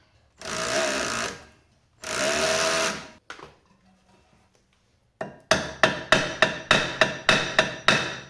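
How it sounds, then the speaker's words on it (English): Work on a rear brake rotor bolt of a 2016 Honda Civic brings two sustained loud power-tool bursts, a pause, then a quick run of about ten sharp, evenly spaced clacks close by. "So now I'm going to take off the rotor. So I'm going to take off this tiny bolt right here."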